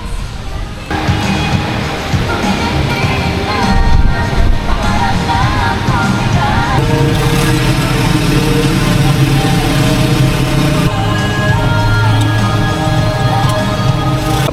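A motorcycle engine idles steadily in an LTO registration inspection queue, a loud, continuous mid-pitched rumble with a slight shift in tone partway through and background noise of the busy inspection area.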